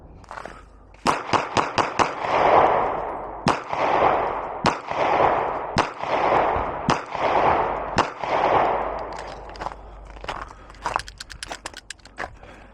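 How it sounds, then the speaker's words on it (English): A customized SIG P365 pistol firing a string of sharp, loud shots, first spaced out and then faster toward the end, at close range outdoors. "Okay, we got a mag. Let's go shoot it."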